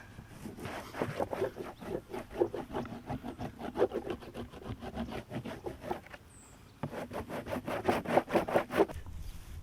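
Surf wax bar rubbed along a surfboard deck using the bar's edge, giving rapid, rhythmic scraping strokes in two bursts separated by a short pause, close and moderately loud.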